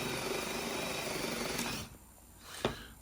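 A cordless drill fitted with a Forstner bit bores into scrap wood with steady, close, grinding whir. It cuts off partway, and a single sharp knock follows in the quieter tail.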